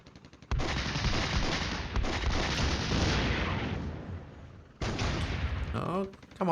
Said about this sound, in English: Oh, come on tanks, do your job. I feel like my tanks are incapable of firing accurately.